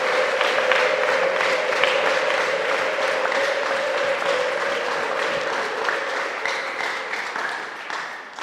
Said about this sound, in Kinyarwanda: tuyikomere amashyi ababyeyi